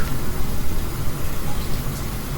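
Rain falls steadily on a car during severe weather, producing a dense, continuous hiss and patter that fills the cabin with no break or clear individual drops.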